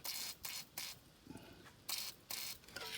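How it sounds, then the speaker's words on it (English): Several short bursts of aerosol lubricant spray hissing close up onto the exhaust brake pivot of a Mercedes MBE 4000 engine, separated by brief pauses, with a faint scraping sound in between. "I'm spraying up right in there."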